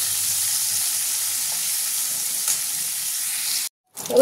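Prawns frying lightly in mustard oil in a wok, a continuous bright close sizzle that cuts out abruptly near the end and then returns.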